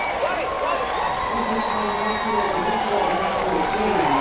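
A crowd cheers and whoops at a Little League World Series baseball game between Mexico and Canada, a steady roar of voices filling the stands with announcers talking over it.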